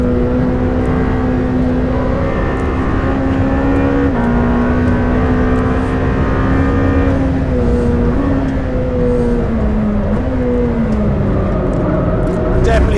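A Lamborghini Temerario's engine revs hard and continuously, its pitch climbing steadily through repeated gear changes toward a 9,500 rpm peak, loud and close throughout.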